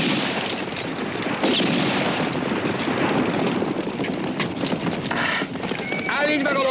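Horses pulling a carriage, a dense run of clip-clopping hooves under constant rumble and rattle of the moving carriage, loud and close, with people talking over it.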